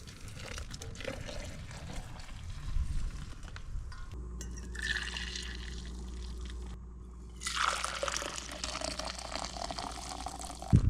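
Liquid being poured outdoors in the morning on an Alabama turkey hunt, a steady close splashing stream with a gush partway through, no talking.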